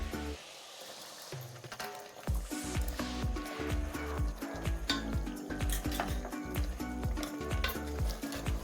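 Tomato puree going into a pan of chicken gravy, with busy clattering, stirring and scraping of a utensil against the pan in a quick uneven rhythm, close and fairly loud, with faint sizzling underneath.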